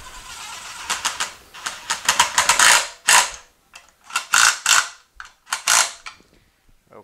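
A ratchet drives a bolt home on an 8L90 automatic transmission during reassembly, with quick bursts of close, crisp clicking separated by short pauses as the handle swings back and forth.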